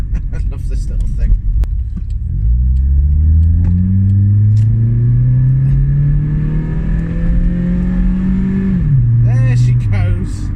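Vauxhall Corsa car engine idles briefly before revving up and pulling away, its tone climbing steadily over several seconds before easing off and shifting near the end, heard loudly and close with a few faint clicks.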